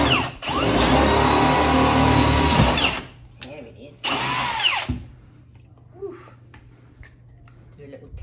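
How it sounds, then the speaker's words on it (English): A loud heavy-duty power drill boring through a wall whines steadily for a few seconds, stops, then a second shorter burst follows, leaving a quiet room hum. "So I went in with the heavier duty drill"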